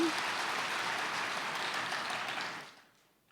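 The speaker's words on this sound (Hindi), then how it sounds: "ताली बजाओ अपने लिए।" Audience applause at a spiritual talk, a steady wash of clapping from a crowd that holds for over two seconds and then fades out.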